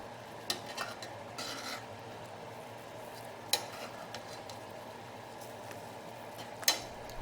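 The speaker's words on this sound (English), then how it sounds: "We simply take the pork chops and add them back into the pan, turning them over to completely smother them in the gravy." Pork chops turned over in gravy in a Lodge cast iron skillet, with soft stirring and scraping and a few light metallic clinks over a low steady simmer.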